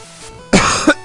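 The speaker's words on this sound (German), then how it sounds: "Jetzt muss ich husten, Verzeihung." A single sharp, close cough bursts out after a moment of quiet, followed by a brief second throaty catch.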